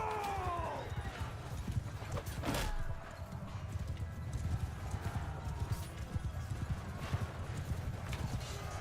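Cavalry horses in the video game Bannerlord gallop in a dense, rapid drumming of hooves with a whinny early on, loud and close amid battle clatter, with voices shouting over it.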